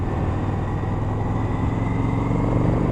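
Indian FTR 1200 motorcycle fitted with an Akrapovic exhaust, its engine giving a steady, loud low rumble throughout with no speech over it.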